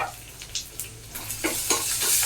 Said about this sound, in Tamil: இந்த அந்த வெங்காயம் பச்சை மிளகா வதங்கிட்டு இருக்கும்போதே கொஞ்சமாக இதில் வந்து மஞ்சள் பொடி சேர்த்துக்கலாம்.